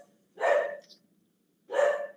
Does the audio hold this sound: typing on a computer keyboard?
no